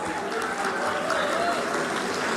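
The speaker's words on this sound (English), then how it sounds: "A big round of applause for all the dignitaries on the dais." A crowd applauds steadily at a foundation-stone ceremony for a badminton academy in Visakhapatnam, a dense wash of clapping with no breaks, fairly loud and filling the whole moment.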